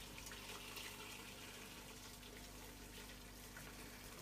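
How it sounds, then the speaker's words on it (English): Boiling water poured into a pressure cooker while making beef stock, a steady, soft rushing gush of liquid filling the pot, continuous and fairly quiet throughout. "now we'll pour in some water,"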